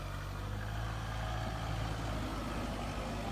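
A GWM Tank500 Hi4T PHEV climbing an off-road track, a steady low engine drone with broadband rumble, close and continuous throughout.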